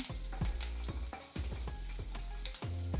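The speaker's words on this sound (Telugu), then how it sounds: "కల్లుప్పు కూడా వేసి ఫ్రై చేస్తున్నానండి వీటిని" Ingredients for radish chutney frying over a high flame with rock salt just added, a crackling sizzle broken by quick rhythmic scrapes of a spatula across the pan, roughly every half second, close and without talk.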